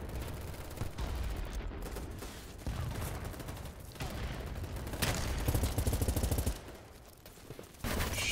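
Dense, rapid gunfire from the shooter Battlebit Remastered, sustained bursts and volleys rattling almost continuously, close and loud, with a brief lull near the end before firing resumes.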